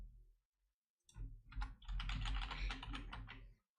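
Rapid typing on a computer keyboard during live game programming, a dense burst of close, crisp key clicks lasting a few seconds after a brief pause, with no talk.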